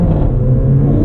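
A 2015 Mercedes-Benz CLA 45 AMG four-cylinder in sport mode gives a loud, steady, low rumbling engine drone up close, sustained throughout with no voices over it.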